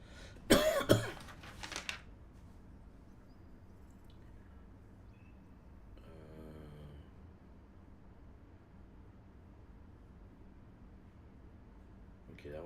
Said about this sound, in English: Every time I talk, I want to cough.